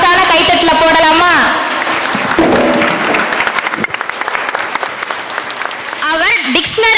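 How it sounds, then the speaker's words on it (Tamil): At a school annual day celebration, an audience claps loudly for a dancer in a dense burst of applause, with a voice over a loudspeaker before and after it. "டேலண்ட் டான்ஸருக்கு ஒரு மாசான கைத்தட்டல போடலாமா?"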